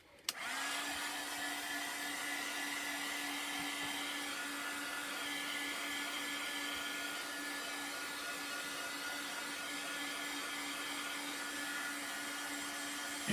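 A hair dryer dries boxes freshly coated in Mermaid Mint chalk paint, giving a steady, close, loud whirring blow that runs unbroken for about thirteen seconds with no talking.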